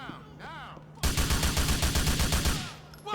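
Rapid automatic gunfire in Grand Theft Auto IV, a loud close burst of evenly spaced shots lasting about a second and a half after brief quieter game sounds.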